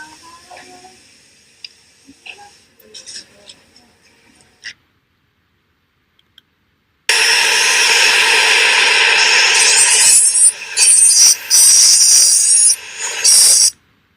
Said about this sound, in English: excess impression material should be trimmed off before final precision impression